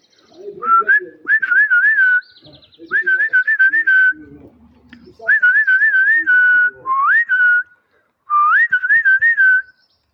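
A person whistles repeated warbling, trilled phrases to call pigeons at night, in short bursts, loud and close, with brief pauses and faint soft sounds between them.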